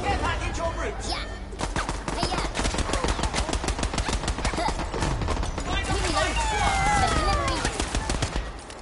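Rapid gunfire in the video game Worms Rumble, a dense stream of quick shots and impacts over a busy game soundscape, with players talking over it.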